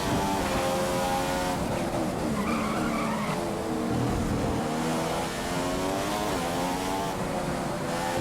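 F1 cars race in the F1 2015 video game at the Australian circuit, their engines screaming continuously and loudly throughout, with tyre skids and several cars running close together.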